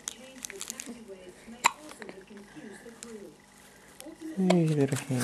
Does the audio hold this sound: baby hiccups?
yes